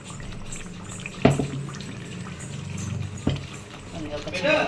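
Water poured from a small glass into a brinjal masala curry in a pan: a liquid splash and gurgle over a simmering bubble, with a couple of sharp knocks and faint background noise.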